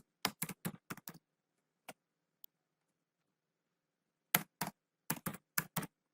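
Bursts of computer-keyboard keystrokes typing a dashboard title, several quick clusters of clicks separated by a long quiet gap, close and crisp with no talking.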